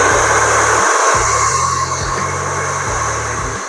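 A hot air blower hisses and whirs steadily up close, heating double-sided adhesive for a Yamaha Mio Fazzio scooter accessory, its motor hum pulsing slightly as it runs without pause.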